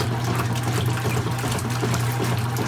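A washing machine runs a long hot-water cycle washing old rugs, giving a steady, continuous churning and sloshing of water with a low mechanical hum underneath, close and even throughout with no pauses or talk.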